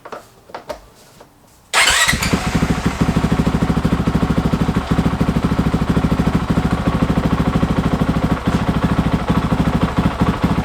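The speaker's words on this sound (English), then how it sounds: "let's turn on the bike and let it idle for around 1 or 2 minutes" A Honda CRF450L dirt bike engine cranks and catches after a few quiet knocks, then settles into a loud, steady, close idle with a fast even thrum that runs to the end.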